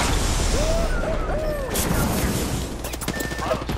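Bursts of squad-shooter gunfire ring out close and loud amid busy game effects, with sharp cracks toward the end.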